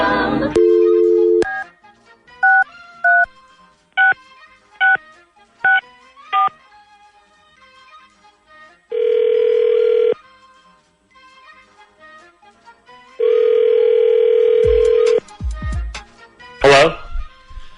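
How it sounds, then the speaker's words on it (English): Touch-tone telephone keypad beeps, a steady dial tone and ringback tones for a call placed live from a morning radio show studio, loud and alone with short pauses between tones. "Let's call him up right now."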